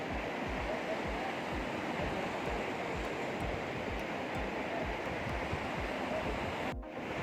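A river at Brahmakapal near Badrinath on a cold early morning roars as a continuous dense rush of flowing water, loud and close, unbroken for the whole stretch.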